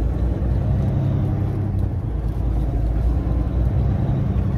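A truck rumbles past close by, a steady low roar of engine and road noise holding throughout with no speech over it.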